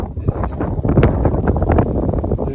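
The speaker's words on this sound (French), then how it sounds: "Désolé pour le vent." Heavy wind buffets the microphone, producing rumbling low thumps and gusty roaring for a couple of seconds.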